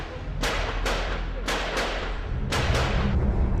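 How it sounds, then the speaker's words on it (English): Several sharp gunshot bursts ring out at the Taj Hotel in Mumbai during the 26/11 attacks, clustered irregularly in twos and threes over a steady low rumble, moderately distant. "And then suddenly we heard more gunfire."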